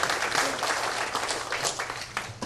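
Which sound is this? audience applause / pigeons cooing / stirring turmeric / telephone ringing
audience applause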